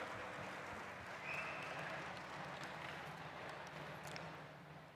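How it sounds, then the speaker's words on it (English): Audience applause welcomes an honoured guest onto the stage at the 20th Bharat Asmita National Awards ceremony in 2024, a steady, dense wash of clapping held at an even level throughout, fading slightly at the end. "welcome with a big round of applause, Dr. Raghunath A. Mashelkar ji."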